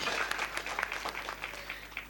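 An audience at a Hindi comedy poetry gathering claps in a short, scattered burst of applause, moderately distant and fairly faint.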